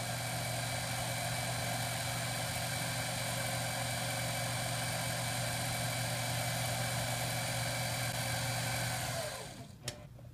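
A metal lathe takes a very light cut on a bass guitar knob, its motor holding a steady tonal whine and hum throughout before winding down with a sharp click at the close.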